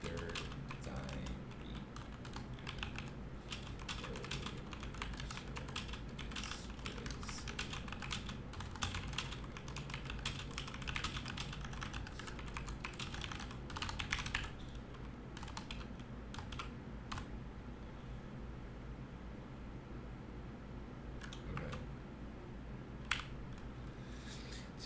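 Steady, rapid clacking of keys on a computer keyboard while entering text in an editor, continuous and close with occasional louder keystrokes, no voices.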